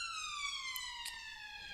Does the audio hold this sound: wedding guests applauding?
no